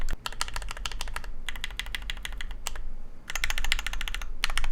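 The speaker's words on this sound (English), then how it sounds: "You can definitely tell that the brass is making a huge effect on the sound, and it's sort of elevating the pitch a little bit higher" Typing on a custom mechanical keyboard with a brass plate: quick bursts of crisp, close keystroke clicks with short pauses between runs.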